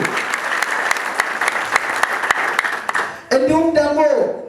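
A church congregation gives a round of applause at a hymn release event, dense clapping close up for about three seconds, after which a voice speaks over the fading claps.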